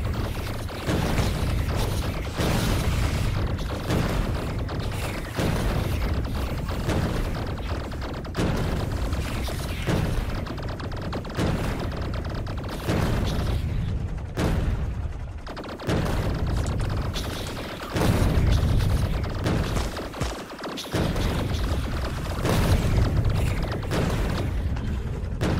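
Tank cannon shells and laser turrets fire together in Factorio during uranium cannon shell testing, a continuous dense mechanical barrage with booms and rattling across the whole stretch, loud and steady with no talking.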